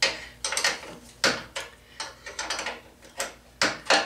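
Ratchet wrench tightening a bolt on a VW: a series of close, sharp clicking bursts in irregular short runs, separated by brief pauses, with no talk.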